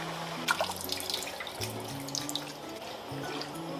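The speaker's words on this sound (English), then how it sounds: "I filled the pot with water just to cover the meat." Water running from a tap into a pot of Vietnamese braised pork with eggs, a continuous close splashing fill with small gurgles and drips, steady throughout with no speech.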